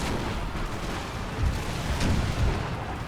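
Cannon fire in the strategy game Empire: Total War, with deep artillery booms rolling out over a constant dense battlefield rumble, several heavy thuds in close succession.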